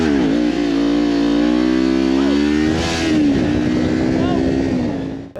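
A motorcycle cruises along a new road, its engine droning steadily with harmonic tones that shift in pitch as the rider eases and revs, loud and close throughout before briefly trailing off at the end.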